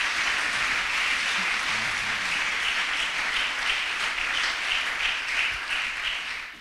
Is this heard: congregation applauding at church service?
yes